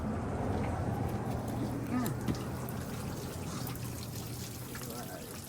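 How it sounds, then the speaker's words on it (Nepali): A water-powered mill turns in a flowing channel, with trickling, pouring water splashing over a low, steady mechanical hum that holds throughout. "यो पानीले घुमा वाटर मिल के भन्छ यसलाई"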